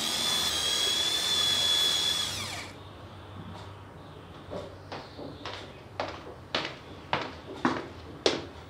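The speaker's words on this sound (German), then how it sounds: "Moment, ich muss gerade noch ein Loch bohren." A power drill bores a hole in a dining-room wall indoors, whining steadily for about two seconds. Then comes a run of short rhythmic knocks or taps that grow louder.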